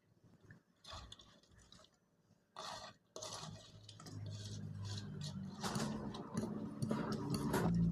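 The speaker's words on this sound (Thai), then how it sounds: "ชะอมนี่ผมจะตัดเป็นท่อนสั้นๆ แบบนี้นะครับ" Irregular crisp snips and chopping taps on a board as cha-om (acacia) leaves are cut into short pieces with a knife, with soft rustling and clatter building toward the end; no talking.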